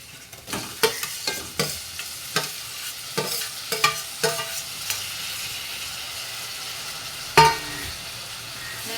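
Tomato pieces are stirred in a frying pan: a series of irregular scraping and clinking strokes from a utensil over a gentle background sizzle, close and moderately quiet, with a louder scrape near the end.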